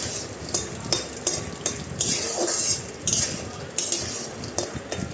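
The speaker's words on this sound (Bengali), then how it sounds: "বাদামটা আমি এই ঘিয়ের মধ্যে দিয়ে ভালো করে ভেজে নেব" Peanuts fry in ghee while a spoon stirs them, giving a continuous close sizzle marked by regular metallic scrapes and clinks against the pan every half second or so, with no talk.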